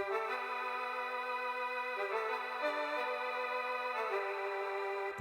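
A cheap Yamaha VSS-30 synth plays a short melodic line on a brass patch, with steady sustained stacked tones shifting pitch every second or so. It is clear and continuous with no voices.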